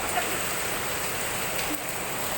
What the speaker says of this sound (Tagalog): mas malakas ang ulan